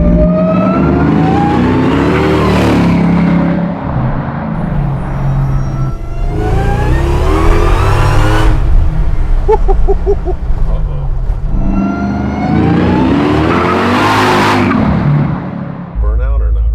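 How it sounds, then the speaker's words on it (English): Hellcat-powered Chevy C10 revving hard in repeated loud bursts during a burnout attempt, with engine roar rising and falling and people talking between the pulls. "Burnout or not really?"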